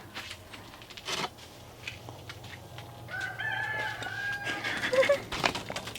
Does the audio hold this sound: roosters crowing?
yes